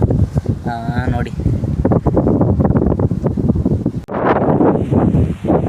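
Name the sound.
strong wind blowing on the microphone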